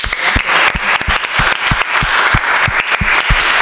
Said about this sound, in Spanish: te vamos a dar un aplauso de Marbella Te Quiero y de nuestros corazones